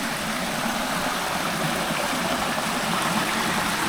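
Water flows steadily at the 850-year-old Shri Laxmikeshav temple in Konkan, a continuous close rushing wash with no voices over it.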